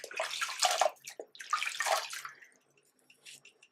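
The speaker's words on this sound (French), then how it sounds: "Comme je vous l'ai dit, moi je rince à l'éponge." A wet sponge rinsing a face, giving two close bursts of splashing, squelching water followed by faint trickles and drips.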